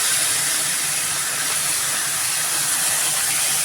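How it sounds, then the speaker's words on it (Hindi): Onions frying in hot oil with curry leaves and whole dried red chillies, a steady, close, continuous hiss and sizzle throughout with no talking. "प्याज को हम अच्छे से भून लेंगे। प्याज हमारा देखो भूनने लगा है"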